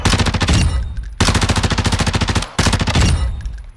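Tempus Razorback rifle firing on a video game practice range: three loud, close bursts of rapid automatic fire, each a dense string of shots with brief gaps between, no talking.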